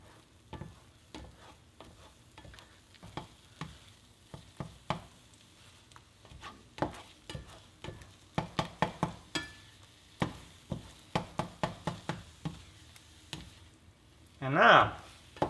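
Scrambled eggs being pushed, folded and pressed in a frying pan, heard as a run of close spatula scrapes and taps that quicken midway, with soft sizzling underneath and a louder clatter near the end.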